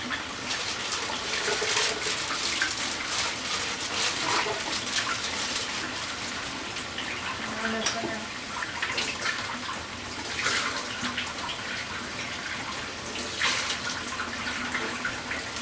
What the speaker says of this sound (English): after you run it under hot water, just kind of break it up a little bit.